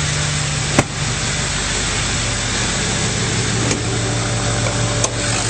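A 2005 Ford F-250 Super Duty XLT with the 6.0L diesel engine idles steadily at close range, a continuous low rumble with a few brief clicks, and no voices over it.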